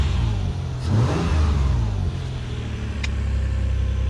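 Toyota 4Runner fitted with tractor tires, its engine running nearby with a steady rumble that swells briefly as it revs, then settles back.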